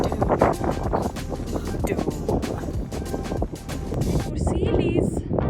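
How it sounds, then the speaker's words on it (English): Strong gusts of wind buffet the microphone on a windy seaside summit at Point Dume, roaring and rumbling continuously with surging bursts. "The windy summit of Point Doom."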